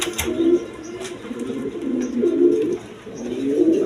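Domestic pigeons kept for sale coo close by in three rolling, repeated phrases, each swelling and fading, with a few faint background clicks.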